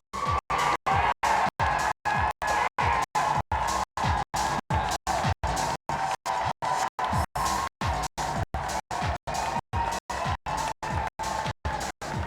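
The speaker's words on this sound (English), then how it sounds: "Please keep that applause going" Audience applause and cheering for a contestant at a gay pageant, a crowd roar chopped into rapid regular on-off gaps by repeated dropouts, faint and distant throughout.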